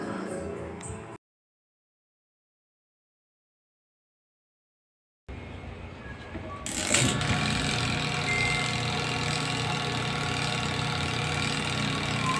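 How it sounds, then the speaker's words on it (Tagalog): Spin dryer motor running after a brief noise and a stretch of silence, then starting up with a jolt and settling into a steady whirring hum, close and continuous. "yan ay gumagana yung spin motor natin"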